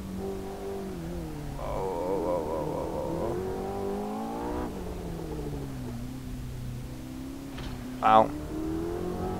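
Racing car engine in Assetto Corsa on Mount Akina, rising and falling revs with an 8k RPM limit, held at a high whine then dropping through gear changes, a sharp burst near the end, with someone talking over it.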